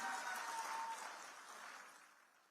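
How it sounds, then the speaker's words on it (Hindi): A crowd at a public political gathering claps in a faint, distant round of applause that fades away over a couple of seconds. "जोरदार तालियां।"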